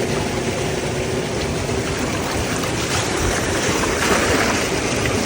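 Water being poured, a loud steady rushing gush that holds evenly throughout with no voices.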